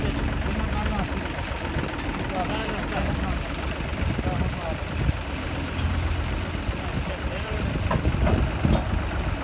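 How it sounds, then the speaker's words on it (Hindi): An Arjun 555 tractor engine runs steadily at night while reversing with a straw-hauling trolley, a continuous low rumble heard close with voices talking over it. "हूं बैक कर ट्रैक्टर"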